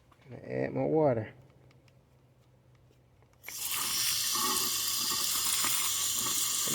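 A garden hose runs water into the cooling system of a Lexus IS250 F Sport, a loud steady rushing splash that starts abruptly after a brief voice and a quiet pause, close by.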